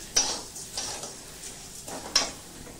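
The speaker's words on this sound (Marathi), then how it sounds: "आता हे जे गहू आहेत हे कढईमध्ये मी घेतले, हे पण मस्तपैकी भाजून घेऊया" Wheat grains being tipped into a kadhai for roasting, giving a couple of sharp rattling clinks about two seconds apart with faint scraping in between, quiet and close, no talking.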